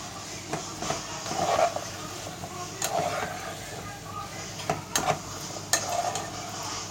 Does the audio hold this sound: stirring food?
yes